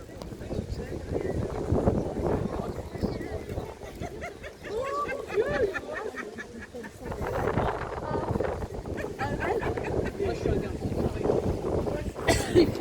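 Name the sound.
gusts of wind on a harbour at night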